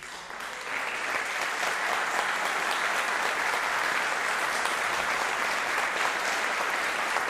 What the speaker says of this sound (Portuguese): eu gostaria uma salva de palmas aí para Andressa